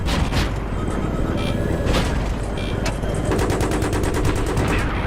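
Loud, close gunfire in the video game Battlefield 3, with dense automatic bursts and overlapping shots and a rapid rattling run of rounds near the end over a rumbling battle background.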